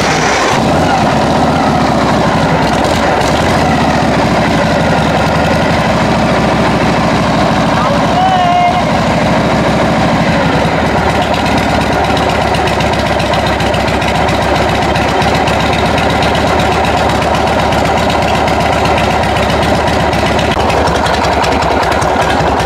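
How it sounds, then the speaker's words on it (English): Harley-Davidson Shovelhead motorcycle engine running at a loud, steady idle close by, with a low rumbling vibration throughout and a person talking briefly over it. "I cannot actually end the video without starting the bike, so we're gonna start the bike."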